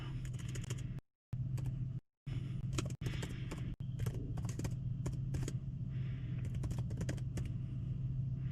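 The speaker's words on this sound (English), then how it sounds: "So I am just typing away." Typing on a keyboard during a cold-weather livestream at an Electrify America charging site, a steady patter of key clicks over a constant low hum, with a few brief drop-outs.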